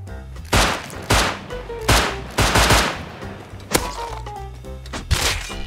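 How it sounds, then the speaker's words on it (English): Gunfire in the survival game Rust, a series of loud sharp shots in irregular bursts, some rapid and overlapping, others spaced apart, heard alone without talk. "I wonder if that's my neighbor shooting guns."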